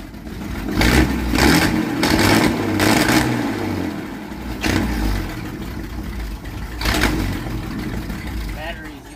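Restored 1946 Dodge Power Wagon engine running and revving, a loud rumbling idle rising in several rev surges, with people talking over it.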